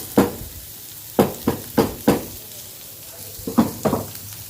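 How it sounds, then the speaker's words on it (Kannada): Onion pieces going into a pan of frying potatoes browning for broccoli rice, giving several sharp sizzling bursts with stirring scrapes between them, close and with no one talking. "ಸೊ ಈ ಟೈಮಲ್ಲಿ ನಾವು ಆನಿಯನ್ ಹಾಕೊಳ್ಳೋಣ"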